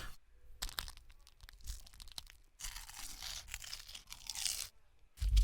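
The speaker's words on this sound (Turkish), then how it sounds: "Kıtır kıtır ediyor." Crispy breaded food, coated in flour and oiled breadcrumbs, crunches while being chewed: quiet bursts of crackling bites with short pauses between them, close to the microphone and with no talking.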